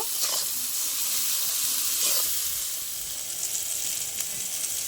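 Spinach and paneer being sautéed together with spices in a pan, giving a steady, hissing sizzle with faint stirring that stays even throughout.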